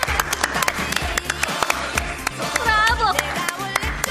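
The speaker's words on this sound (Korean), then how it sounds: "박수." Clapping from an audience at a Korean beauty-industry event, a burst of scattered handclaps over about four seconds mixed with background voices and murmur.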